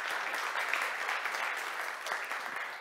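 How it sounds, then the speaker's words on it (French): Audience applause at a Montreal networking showcase event, a steady wash of many hands clapping at moderate distance for a few seconds. "On les applaudit."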